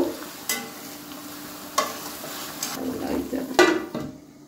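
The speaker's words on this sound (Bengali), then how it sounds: "এ পর্যায়ে আলতোভাবে একটু নাড়াচাড়া করে নেব" Pre-fried eggs gently stirred in a curry pan for egg bhuna, a low simmering sizzle with a few distinct scrapes and knocks of a spoon against the pan, close and unhurried.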